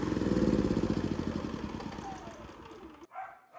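A PK4200 generator engine running after carburetor adjustment, a loud, close, pulsing putter whose rhythm slows and fades before cutting out abruptly near the end.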